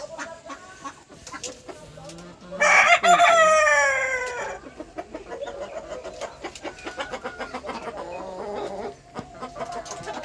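A black rooster gives one loud, close crow among domestic hens, followed by a run of softer clucking and scratching from the flock.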